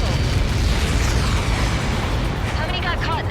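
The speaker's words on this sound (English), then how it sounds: "How many got caught in that explosion?" A massive impact blast from Helios projectiles in the video game Ace Combat 7, a sustained loud rumbling roar that fills the whole moment, with radio chatter running underneath.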